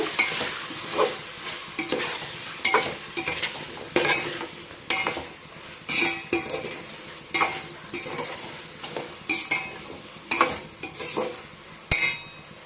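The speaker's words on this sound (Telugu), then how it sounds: "ఇప్పుడు బాగా అంతా కలుపుకున్నాము" Mushroom biryani with mint and coriander is stirred in a pot, a rhythmic series of scraping, shuffling strokes roughly once a second over a faint sizzle, with occasional metallic clinks, close and fairly loud.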